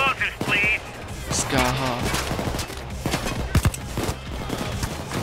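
Rapid gunfire from a weapon in a heist shooter game, bursts of sharp shots scattered through the clip, mixed with other game noise while someone speaks briefly.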